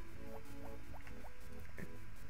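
Crops being watered in Harvest Moon: Friends of Mineral Town, a faint run of short repeating watery splash blips against a steady game background tone.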